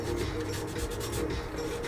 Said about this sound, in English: a little bit of sanding. Sandpaper on here to help get rid of some of the paint